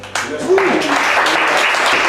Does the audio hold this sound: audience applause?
yes